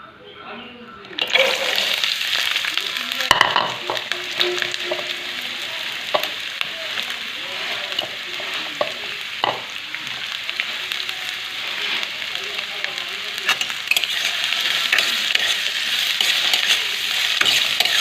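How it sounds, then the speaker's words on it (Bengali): Potato and eggplant fry in hot oil in a wok, a steady loud sizzle that bursts in after a quiet start and continues with scattered pops and stirring clatter throughout. "আলু বেগুনটা একটু ভালো করে ভেজে নেব"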